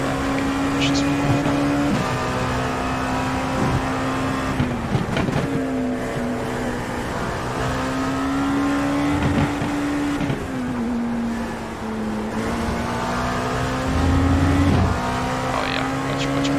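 LMP2 prototype race car engine in iRacing at Sebring, holding a steady loud droning whine that rises and dips with throttle and gear shifts through the lap, with someone talking over it.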